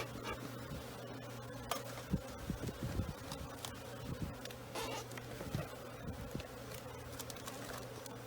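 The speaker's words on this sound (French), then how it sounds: "Mademoiselle, les abeilles." A dense swarm of honeybees buzzes close by, a steady agitated drone with scattered sharper buzzes darting past.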